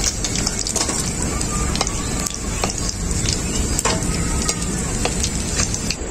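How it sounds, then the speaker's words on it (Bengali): Rohu fish pieces frying in mustard oil, a close, continuous sizzle broken by sharp spatters and pops, with no talk. "বাকি মাছগুলো আমি একইভাবে ভেজে নেব।"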